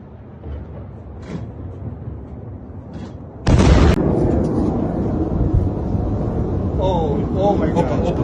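Missile strikes hit Tel Aviv at night, with a sudden loud explosive blast followed by sustained rumbling and roaring, while people talk and exclaim in the background before and after.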